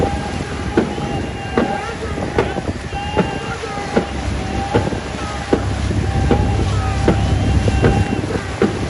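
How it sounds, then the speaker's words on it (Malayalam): The Thalavady Chundan snake boat crew at rowing practice on open water, with rhythmic splashes of many oars striking together at a steady beat under wind noise, voices and chanting. "തലവടി ചുണ്ടൻ വള്ളം നടത്തുന്ന പരിശീലന തുഴച്ചിൽ"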